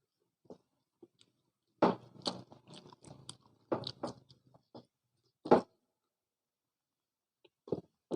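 Tofu being chewed up close, with crunchy bites and wet mastication in irregular bursts separated by silent pauses, and no voices.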